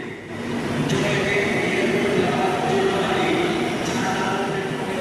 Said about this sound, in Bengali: এই হচ্ছে ইয়েলো লাইন মেট্রোর প্রথম নোয়াপাড়া থেকে জয়হিন্দ বিমানবন্দরগামী মেট্রো